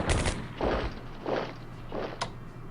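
Artillery fire in the Strategic Command WWII strategy game, a few short muffled booms spaced roughly every half-second to second, fairly faint and with no talking over them.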